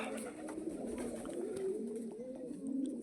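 Pigeons cooing in a loft holding about fifty pairs, a soft continuous chorus of low burbling coos, close and steady with no talk.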